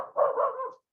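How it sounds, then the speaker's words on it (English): A dog barks at people walking by, one drawn-out, somewhat muffled bark-and-yowl lasting under a second, moderately near, then silence. "Dog barking at people walking by."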